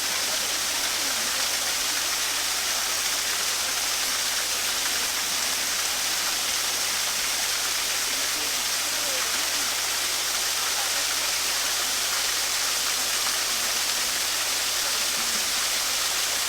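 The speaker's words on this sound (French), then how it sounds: "On appelle ça une cascade en spaghetti" Thin, spaghetti-like strands of water fall steadily in a shaded Japanese garden, making a continuous soft, hissing splash at moderate volume with no other sounds.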